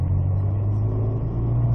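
A supercar on the Knockhill circuit rolls forward under power, giving a steady loud low engine rumble close by for under two seconds.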